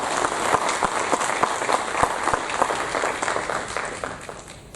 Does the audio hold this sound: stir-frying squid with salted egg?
no